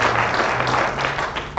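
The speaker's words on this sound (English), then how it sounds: "give yourself a round of applause" A crowd at an environment, health and safety event applauds, a brief dense burst of clapping close and alone.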